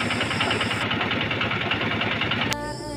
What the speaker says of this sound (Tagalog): dahan-dahanin natin patayin yung motor para po hindi mabigla at hindi po masira